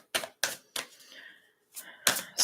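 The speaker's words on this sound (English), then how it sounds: "We're going to shuffle." Tarot cards being shuffled in short crisp bursts, several quick riffling clicks separated by brief pauses, close and fairly quiet with no talking.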